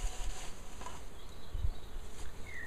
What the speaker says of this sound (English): The flying bees are going to come back to this point here.